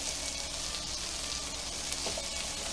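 Shrimp frying in oil in a pan with snow peas for coconut curry, a steady close sizzle running throughout with a faint stir near the end.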